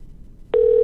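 A telephone ring cuts in abruptly after a quiet stretch, a steady, loud electronic tone that stays unbroken to the end.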